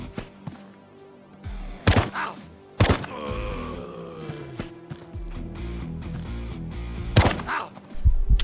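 Gunshots ring out in the sci-fi survival game Quasimorph, a few sharp, loud cracks spaced irregularly among softer thuds and game effects, separated by quieter gaps.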